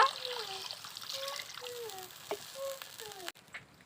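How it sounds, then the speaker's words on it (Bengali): Water is poured into a pan of frying spices and fish for a Bengali-style rohu curry, giving a soft trickle with gurgling, bubbling tones. It is faint and close, then cuts off near the end. "এবার পরিমাণ মতো জল দিয়ে দেব।"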